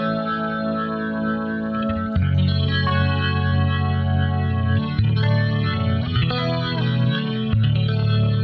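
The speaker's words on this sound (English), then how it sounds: "This is a deluxe reverb." An electric guitar with single-coil pickups played through a Deluxe Reverb amp rings out in sustained, shimmering chords and notes, steady and loud throughout with no talking.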